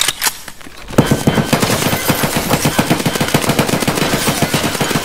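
Rapid automatic gunfire in the shooter game Escape from Tarkov: after a quieter opening second, dense, loud bursts of shots crackle in a fast, steady rhythm to the end.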